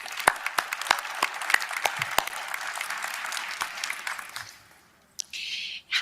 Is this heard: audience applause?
yes